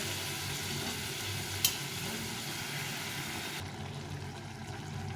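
Onion masala with a splash of water sizzles steadily in a pan while being stirred, a continuous close frying hiss with one sharp scrape partway through and no talking.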